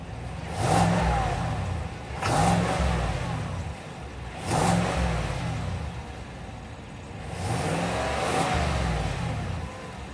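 Chevrolet Silverado High Country 2019 with its 6.2 V8 revving under the open hood, four loud blips that swell and fall back to idle in a regular rhythm, close and alone.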